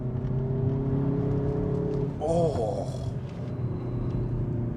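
A Hyundai i30N hot hatchback drives with a steady engine and road rumble, rising briefly into a sharper rev partway through, while a voice exclaims once under the noise.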